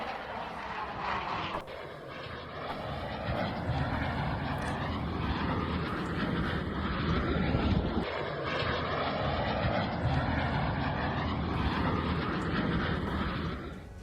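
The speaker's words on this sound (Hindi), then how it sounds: "देखिए कैसे आसमान में 2 राफेल लड़ाकू विमान टकराए हैं" Two Rafale fighter jets roar overhead at an aerobatics show, a loud, steady engine rush that swells and holds for the whole stretch, with no talk over it.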